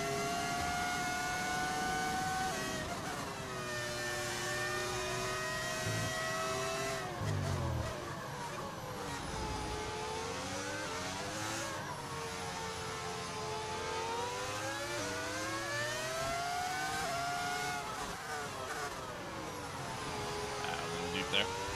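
An F1 25 game car with a V10 engine sound mod screams through a lap, its high-pitched engine note repeatedly climbing through gears, dropping on braking and revving back up, loud and continuous.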